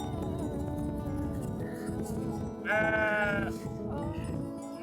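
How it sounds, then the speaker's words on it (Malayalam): Goats bleat along a village path in rural Nepal, one loud nearby wavering cry rising over a steady ambient background, with fainter bleats before and after it. "നടന്നു പോകുന്ന വഴിയിൽ കുറേ ആടുകൾ ഇങ്ങനെ കരയാണ്"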